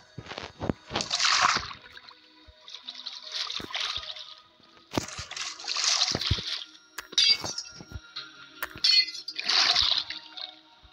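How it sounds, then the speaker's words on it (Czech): Water splashes in bursts as someone swims, roughly five distinct sloshing strokes close by with quiet gaps between them. "Poslouchejte ten zvuk z té vodě, když tam spluju."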